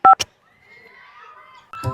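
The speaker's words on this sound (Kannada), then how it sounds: "ಇವ್ರಪ್ಪಗೂ ಫೋನ್ ಹಚ್ಚನು" Two short keypad beeps sound as a phone number is dialed, then faint, thin tones linger and a voice-like sound comes in at the end.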